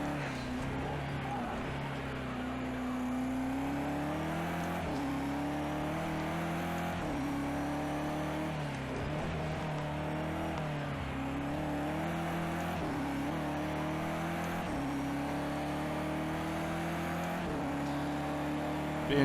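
A race car engine in the racing game Project CARS 2 drones steadily through a lap, with its pitch rising and falling across gear changes and a continuous moderate-level hum.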